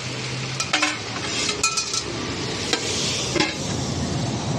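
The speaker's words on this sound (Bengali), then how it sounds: "এই তেলের মধ্যে জিনিসটা কষা হবে ও সেদ্ধ হবে" Food sautés in oil in a pan, loud and close, with a continuous sizzle. Occasional clinks of a utensil against the pan break through.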